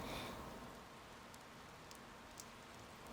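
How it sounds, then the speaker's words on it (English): Soft, steady rain hisses quietly through the scene in the video game Persona 4, a faint continuous patter with a few brief drip-like ticks. "So, it's raining today."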